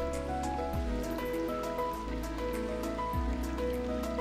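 Rain pours steadily in the game Blue Archive, a dense, even hiss under a gentle music bed with no voices.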